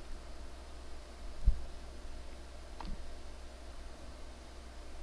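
Two faint computer mouse clicks in Autodesk Revit while placing RPC content, a couple of seconds apart, over a low steady room hiss with no speech.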